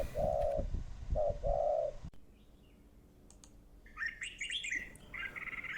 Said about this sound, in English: The spotted-necked dove is one of the two doves we have in our garden.